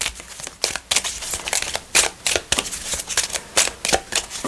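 Oracle cards shuffle and get drawn during a reading: a run of close, crisp riffling and flicking bursts in quick, uneven succession, with no voice over them.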